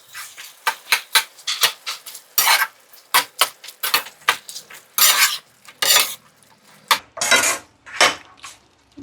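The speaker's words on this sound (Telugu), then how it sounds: "స్పూన్ అల్లం వెల్లుల్లి పేస్ట్ వేసుకుందాం చూడండి ఇప్పుడు దీన్ని కలుపుదాం" A spoon scrapes and clinks repeatedly against a pan while ginger garlic paste is stirred into melted butter for a green chicken curry, producing close, rhythmic metallic knocks with a soft sizzle between them.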